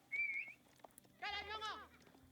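A single wavering sheep bleat sounds in a video game, clear and fairly close, following a short high whistle-like tone and some faint clicks.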